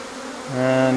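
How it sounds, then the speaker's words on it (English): An excited honeybee swarm in flight makes a loud, close buzz that swells sharply halfway through into a strong, steady hum. "once bees take to the air, the swarm kind of gets excited."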